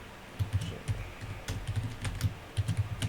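Computer keyboard typed on while entering code, a run of close, crisp keystroke clicks in irregular bursts, alone and without talk.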